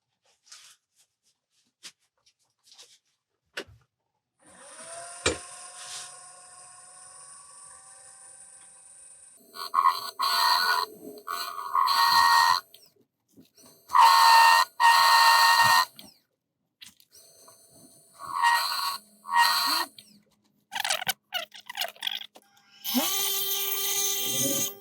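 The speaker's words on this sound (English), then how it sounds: "and then start sanding" Wooden bowl spun on a lathe and worked at the rim, then sanded, producing bursts of loud broadband scraping and whirring separated by quiet pauses, with a steady tonal motor hum running underneath, close to the microphone.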